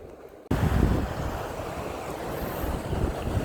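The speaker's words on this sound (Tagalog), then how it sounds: "Dito ngay lumakas na yung tubig." Coastal water at high tide surges strongly in a continuous, rushing roar mixed with wind buffeting the microphone, loud and close after a sudden start.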